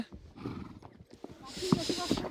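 Horses carrying riders uphill on a mountain trail in the Himalayas of Kashmir near Pahalgam clop steadily on the path, with hoof knocks, snorts and voices nearby.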